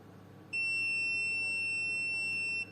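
An Aneng 621A digital multimeter in continuity buzzer mode gives a high, steady electronic beep for about two seconds, clear and continuous, then stops.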